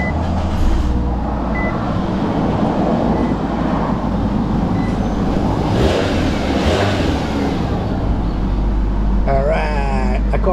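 A Nissan Versa fresh from exhaust repair runs steadily nearby, a constant low engine drone with a faint rise in revs midway, as a voice talks over it.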